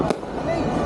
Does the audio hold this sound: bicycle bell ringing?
no